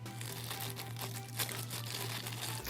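Plastic bag packaging around an Orbeez stress ball fidget toy crinkles and rustles continuously up close, a busy crackling handling sound with no talking.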